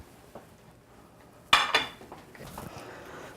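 Baking dish of potatoes set into an oven, a sharp metallic clank followed by a second rattle of oven rack, brief and close in an otherwise quiet kitchen.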